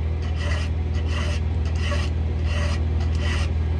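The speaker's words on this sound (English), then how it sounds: "You're filing nice and level like this at 90 degrees." Steady back-and-forth rasping of a file across a chainsaw chain's cutters, about six even strokes close up over a low constant hum, no voices.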